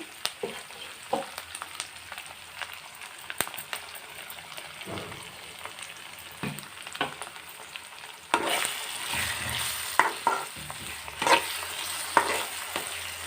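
Ground spice paste fries in a pan for mushroom masala curry with a soft, steady sizzle and occasional stirring scrapes. Partway through, the sizzle jumps louder and denser and keeps crackling for the rest of the clip.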